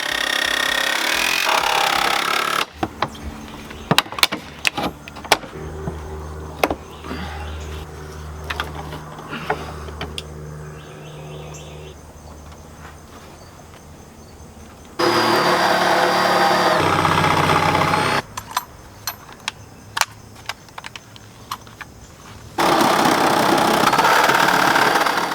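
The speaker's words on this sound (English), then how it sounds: "Then I switched to my angle grinder, which was the right tool for the job." An angle grinder cuts a hole through the body of a prison bus during its conversion. Three loud, dense, whining bursts stand out against quieter stretches of scattered clanks and knocks.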